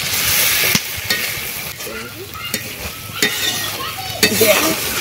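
Small Ganga mourola river fish frying in a pan on low heat give a steady close sizzle, broken by a few sharp scrapes and clinks as the fish are gently turned over.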